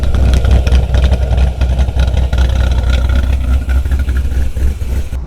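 A self-built Chevrolet Camaro Z28 idles loudly and close by. The rumble is deep and steady, with a slightly lumpy pulse, and small throttle blips run throughout.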